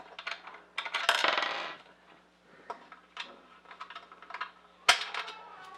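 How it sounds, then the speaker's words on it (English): Metal wing nuts being unscrewed by hand on a StarCraft swing-away heat press, heard as a series of light metallic clicks, scrapes and clinks, loudest in a busy burst near the start, with a low steady hum underneath. "We're just going to unscrew these wing nuts."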